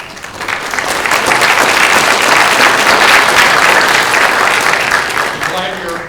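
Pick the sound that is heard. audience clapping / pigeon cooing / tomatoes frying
audience clapping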